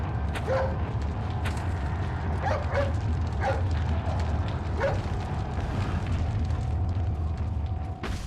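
A dog in Resident Evil 4 barks several times amid a boss battle, short sharp yips scattered over a steady low rumble of game noise and distant booms.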